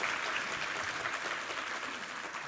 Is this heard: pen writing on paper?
no